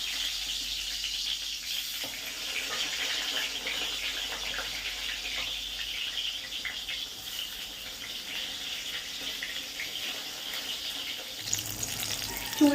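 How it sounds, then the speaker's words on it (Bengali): Eggplant slices frying in a pan in a home kitchen, a steady broad sizzle that holds evenly near the mic throughout, with a brief louder clatter at the very end and no talk. "আর তারপর কি বলে বেগুন ভাজাটাও বসিয়ে দেবো"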